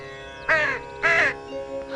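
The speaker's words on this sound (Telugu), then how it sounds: "ఆ కాకులు కావు కావు నరుస్తున్నాయి కదా" Two loud, harsh crow caws ring out one after another in a film scene set by a temple pond, with a quieter tonal background between and after them.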